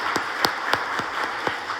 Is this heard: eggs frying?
no